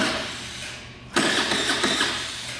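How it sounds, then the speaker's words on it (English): A Linhai 50 scooter's electric starter whirs as it cranks the engine, starting with a sudden loud mechanical burst of churning after a quieter stretch and carrying on close by. "Pull your brake in and hit your starter."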